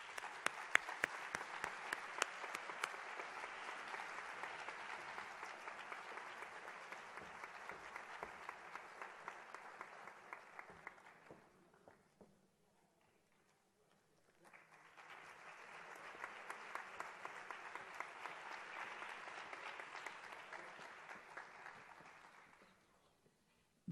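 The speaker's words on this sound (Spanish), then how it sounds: "Un fuerte aplauso" Applause from an award ceremony audience, fairly faint and distant, a long steady burst that breaks off into near silence, then resumes for a second sustained round.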